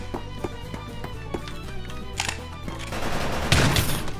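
Game gunfire with recoil rings out in a Minecraft shooter modeled on Sudden Attack: a string of sharp, regularly spaced shots that later gives way to a louder, denser burst, close and prominent.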